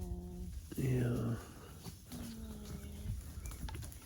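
Cows in a close-packed herd low and moo nearby, one loud call standing out early and softer bellows following, amid shuffling and background voices.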